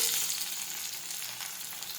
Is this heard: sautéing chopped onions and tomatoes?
yes